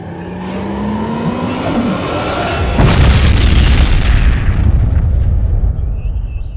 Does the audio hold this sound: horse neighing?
no